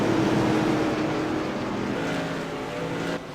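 Race cars lapping the 0.3-mile short track at Irwindale Speedway during a CRA modified tour event, a loud sustained engine roar with shifting pitch as cars pass close by, without talk.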